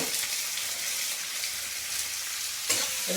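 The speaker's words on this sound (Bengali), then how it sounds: "পেঁয়াজটা দিয়ে ভালো করে একটু ভেজে নেব।" Onions stirred and fried in hot oil in a pan for a fish curry: a continuous close sizzle with scraping stir strokes, and a sharper clatter of the utensil near the end. No talking.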